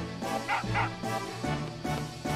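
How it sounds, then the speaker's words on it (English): A dog from the video game Final Fantasy VIII barks in a repeated run of short, mid-pitched barks that stay loud and close, with no talking over them. "He's a good dog."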